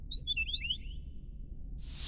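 A quick series of high, bright cartoon bird chirps near the start, then quiet low background noise and a short hiss at the end.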